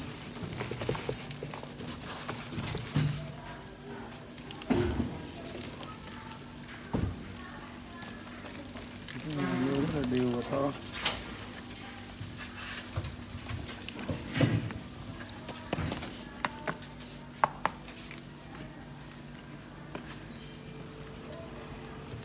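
Crickets at a cricket farm in Nam Dinh and Hanoi, Vietnam, with a dense, continuous high-pitched chirring close by, mixed with scattered light rustling, handling taps and brief clatter.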